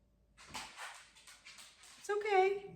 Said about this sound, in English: He has a really loud bark because he can't hear, so he doesn't know how loud he is